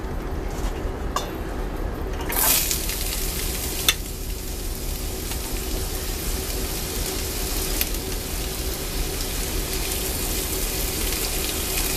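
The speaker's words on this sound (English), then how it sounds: "I wanted you to hear that sizzling sound." Steady, loud sizzling of potatoes frying with green peppers and onions in a cast iron skillet, with occasional stirring and scraping noises, no voices.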